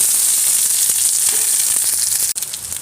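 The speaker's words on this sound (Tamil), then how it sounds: "கடுகு பொரிஞ்சிச்சு வெங்காயம் போட்டுக்கலாம்" Loud, steady sizzling of onion frying in hot oil after mustard seeds have popped, close up, with faint stirring clicks and one brief sharp knock near the end.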